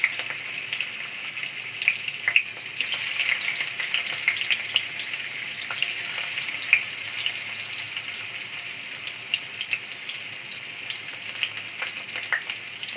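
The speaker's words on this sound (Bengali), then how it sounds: "ছোটো ছোটো করে কুচানো আলু দিয়ে দিচ্ছি।" Small chopped potatoes fry in a pan with a steady, close hiss and crackle, broken by occasional soft scrapes and clinks, with no talking.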